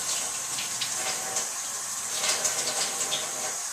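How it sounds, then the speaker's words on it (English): Tap water runs steadily into a sink for warm hand washing, a continuous hiss and splash at close range with small fluctuations and no talking. "the first thing I'm going to do is turn on the water"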